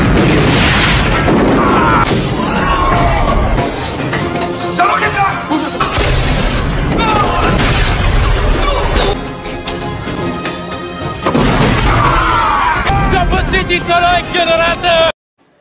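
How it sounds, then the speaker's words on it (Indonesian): Explosions from explosives planted at points around a Russian fortress in a Rambo film: loud, dense booms and crashes fill the scene almost continuously, briefly dipping before further blasts, with a busy, layered action-movie soundtrack. "Mausaghani menyalakan peledak yang sudah ditanam di berbagai titik sebelumnya sehingga membuat benteng Rusia menjadi kacau balau"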